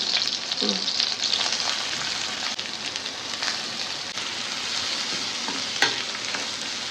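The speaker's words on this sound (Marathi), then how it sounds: "गरम तेल झाले आहे. ते कांदा टाकून घेऊ." Onion and chillies frying in four spoons of hot oil for a Konkan wild-greens bhaji: a steady, dense, fairly loud sizzle with faint crackles and a few sharp pops, with no talking.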